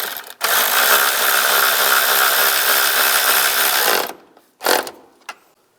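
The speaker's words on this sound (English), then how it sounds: "And tighten that nut down." A power ratchet or impact tool runs loudly and continuously for about four seconds, tightening the nut on a 2004-2010 BMW X3 shock absorber, followed by two brief short bursts before quiet.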